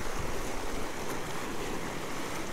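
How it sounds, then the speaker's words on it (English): Ocean waves surge and wash against a jetty in a steady, broadband roar with rushing water and wind, continuous and fairly loud with no talk. "Right when these crazy waves come by."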